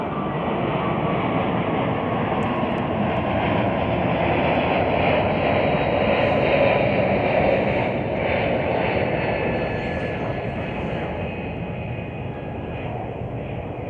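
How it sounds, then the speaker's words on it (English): A United Airlines Airbus A321 jet takes off at Chicago O'Hare, a loud, broad engine roar that holds steady and then slowly fades over the full stretch, with no talk. "United Airlines flight 1761 taking off to San Francisco on an Airbus"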